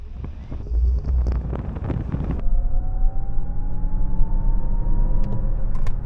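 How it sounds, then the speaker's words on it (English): A Lexus RZ electric car accelerates at full throttle in sport mode, with a rising electric motor whine climbing steadily over tire and wind rumble after an initial burst of thumps and rustling. "I'm just going to floor the accelerator."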